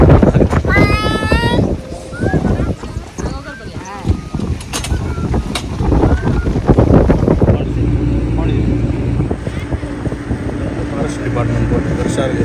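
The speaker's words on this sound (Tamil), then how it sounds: "நாங்க மோட்டார் போட்ல தான் போறோம்." Motorboat ride on the water near Pichavaram, engine droning steadily with gusty wind buffeting the microphone throughout, while several people talk and laugh over it.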